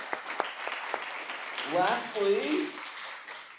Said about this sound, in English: Thank you, big round of applause for them.